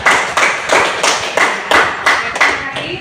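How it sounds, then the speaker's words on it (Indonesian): Audience applause at a teacher-training class event, a steady burst of many hands clapping in waves for about three seconds, fairly loud and close, with no talk over it. "Kita berikan tepuk tangan itu."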